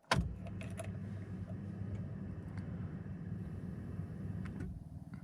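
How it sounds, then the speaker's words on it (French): A BMW E46's ignition key clicks sharply once at the start, followed by a low steady hum of the car's electrics and engine bay, with faint clicks and jingles of the key later on. "il nous dit de couper le contact. Voilà, on coupe, on remet."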